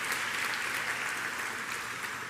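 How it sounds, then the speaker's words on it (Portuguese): A Pentecostal church congregation applauds in a steady, dense patter of clapping that holds evenly throughout at moderate volume, with no voices over it. "Tem alguém para dar uma salva de palmas?"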